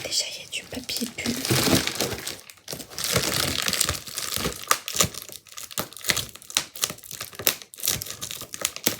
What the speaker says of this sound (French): Déjà, il y a du papier bulle.